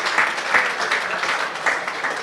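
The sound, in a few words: audience applause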